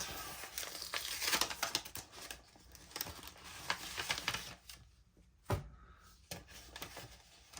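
Paper cash envelope handled up close, with crinkling, rustling and shuffling in bursts separated by short quiet gaps, including one sharp crisp rustle.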